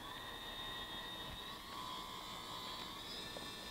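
A liquid-cooled Axiom CNC router spindle idles at 3,500 RPM, giving a steady, quiet, high-pitched whine with layered tones over a soft broadband hiss, unbroken throughout.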